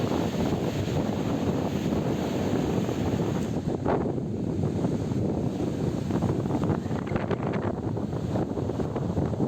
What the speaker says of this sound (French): Il y a tellement de vent